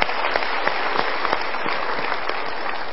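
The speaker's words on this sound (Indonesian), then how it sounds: "kita berikan tepuk tangan dulu" An audience at a motivational seminar claps steadily for a few seconds, a dense run of sharp, close hand claps with no talking.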